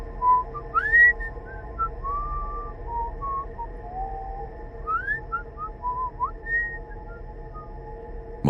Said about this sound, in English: A distinct whistling sound coming from outside.